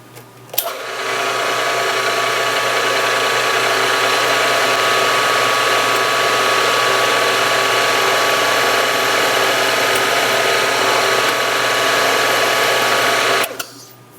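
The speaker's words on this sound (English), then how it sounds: "Number 36 drill for the roll pin." A number 36 drill bores a roll-pin hole in a cross feed knob part from a 10-inch Atlas lathe, a steady loud whirring and grinding hum that starts abruptly, runs unbroken for about thirteen seconds, then stops.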